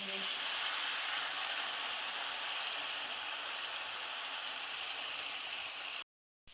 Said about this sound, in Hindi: अब इसमें ब्लेंड की हुई मूंग की दाल डाल देंगे।